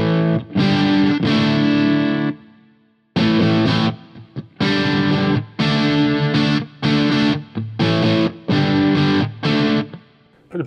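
Distorted electric guitar played through a DSM Humboldt Silver Linings drive and preamp pedal, loud chunky chords in rhythmic bursts separated by short gaps and a brief pause near the middle.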